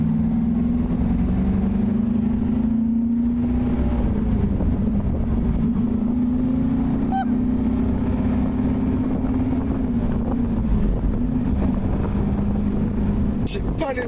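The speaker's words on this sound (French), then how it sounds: "Boîte 4 vitesses qu'on entend en plus." Chevrolet Corvette C1 with a 4-speed gearbox driving along, its loud engine droning steadily with a slowly rising and falling pitch as it pulls through the gears, heard from inside with a voice talking over it.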